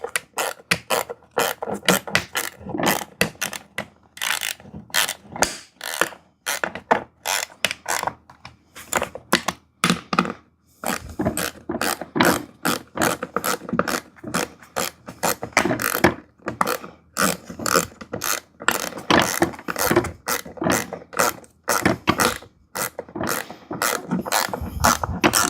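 Hand ratchet tightening bolts while a hydraulic barber chair is assembled, its clicks coming in quick repeated bursts with short pauses between strokes, close and clear with no talking.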